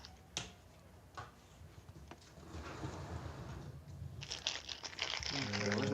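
Plastic toy bag for a Stunticons transforming robot figure being opened: a few sharp crinkles and snaps early, then a rising burst of close, loud plastic rustling and crumpling.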